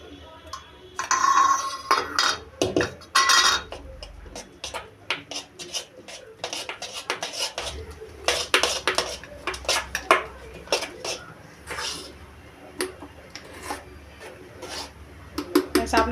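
Knife chopping onion for red lentil fritters in a home kitchen, with repeated close, uneven taps and scrapes against a board and dishes, plus occasional clatter.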